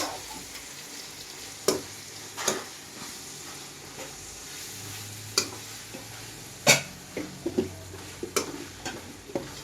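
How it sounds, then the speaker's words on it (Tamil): Mint stirred into a frying cauliflower gravy masala in a pan: a continuous sizzle broken by sharp spatula scrapes and taps against the pan at irregular intervals, close and alone. "ஃபுல்லாக போட்டு நல்லா கிண்டிக்கலாம்"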